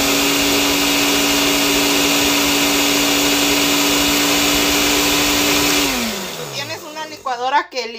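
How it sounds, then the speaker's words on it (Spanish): An old household blender whirs steadily at high speed through oat pancake batter, then winds down, its pitch sliding lower before it stops and leaves scraping and clattering sounds. "Como mi licuadora no es muy acá"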